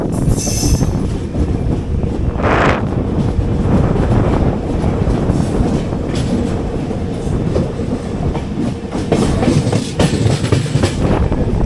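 The 12805 Janmabhoomi Express rolls from Guntur toward Secunderabad and moves onto the main line. A loud, steady rumble of the carriages is heard from inside, with rhythmic clatter of wheels over rail joints and brief squeals from the wheels.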